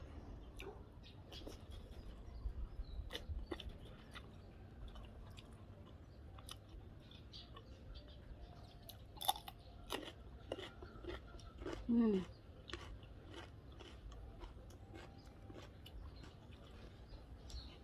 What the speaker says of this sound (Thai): แล้วก็เคี้ยวโดนเนื้อปูแบบเต็มๆคำเลยค่ะ